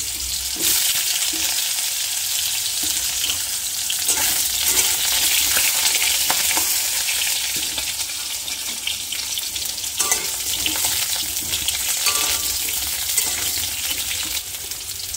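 Pieces of pointed gourd (potol) sizzle steadily in hot oil in a kadai, a loud bright crackle with occasional stirring clinks and scrapes throughout.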